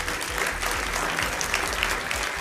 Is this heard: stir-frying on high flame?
no